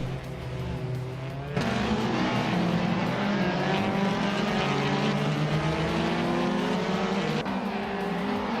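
Race cars in a racing video game roar close by with high, whining engines held steady, swelling as one car surges past and shifting pitch as they battle nose-to-tail.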